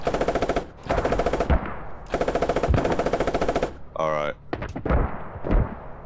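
Automatic gunfire in the military video game Squad, long loud rattling bursts of rapid shots with brief pauses and a few single cracks, and a voice speaking briefly between them.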